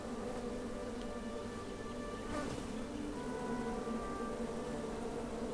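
A swarm of bees buzzes steadily in the King's Quest video game, a continuous droning hum at moderate level with no talking.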